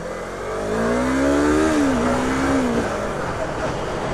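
A motorbike engine revs steadily while riding, a continuous loud drone with rising and falling pitch, with wind noise over it throughout and no talking.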